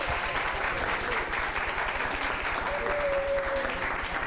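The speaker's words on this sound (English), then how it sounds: "Let's give our spotlight dancers a big round of applause" An audience at a dance event applauds the spotlight dancers, a steady wash of clapping at moderate level with a low rhythmic thump underneath and a brief tonal whistle partway through.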